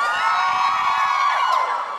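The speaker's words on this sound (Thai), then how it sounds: "เสียงน้องกรี๊ดดังกว่าผมอีกนะ" Fans scream and cheer loudly at a Unilever fan event, a dense crowd of high-pitched shrieks and whoops that holds steady for about two seconds with no talking.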